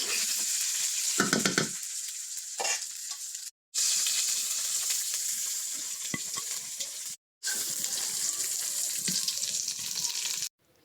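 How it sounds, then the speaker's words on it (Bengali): Jackfruit pieces fry in hot oil in a kadai, a constant close sizzle broken by scraping stirs of a spatula, with two brief silent gaps where the sound cuts out. "কড়াইয়ে কাঁঠালগুলা ভেজে নিচ্ছি"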